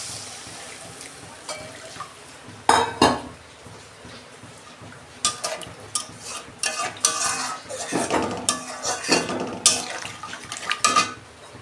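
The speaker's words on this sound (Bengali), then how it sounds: "এই যে আলু মশলার সঙ্গে কষানো হয়ে গেছে, জল দিচ্ছি।" Water is added to a pan of potatoes fried with spices, with clinking spoon scrapes and bursts of splashing and stirring against the metal pan, close and intermittent.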